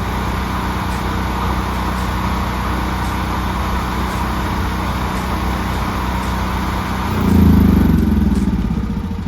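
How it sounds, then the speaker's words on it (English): Generac home standby generator running its cool-down cycle after utility power returns, a steady close engine drone that swells into a heavier, louder rumble near the end. "the generator will go through a shutdown cycle, which it's doing right now because utility power has been restored"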